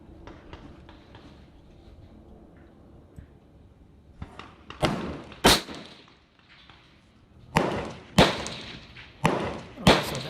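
Rifle fire at a 100-yard target on an outdoor shooting range, with several loud, sharp reports and thumps in the latter half, following quieter handling noises near the start.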